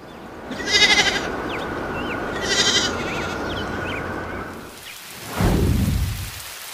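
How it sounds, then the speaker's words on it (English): A sheep gives two short, separate bleats over a steady rain-like patter, and a dull whooshing thud comes near the end. "Sheep."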